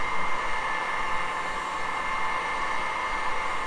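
A heat gun blows hot air onto plastic laminate to soften the glue beneath, a steady close whooshing hiss that holds even and unbroken throughout.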